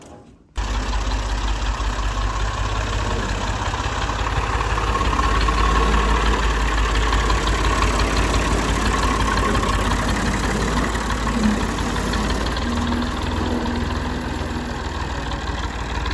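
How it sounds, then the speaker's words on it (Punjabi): A tractor engine idles steadily throughout, a loud, close, continuous low rumble with no break, while faint voices sit beneath it. "ਲਓ ਜੀ ਟਰੈਕਟਰ ਕੱਢ ਲਈਏ।"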